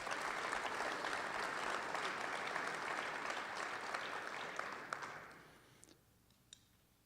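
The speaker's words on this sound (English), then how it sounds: "he deserves another round of applause for that" Audience applause at a political talk, a full steady round of clapping that holds for several seconds, then tapers off into a few last scattered claps.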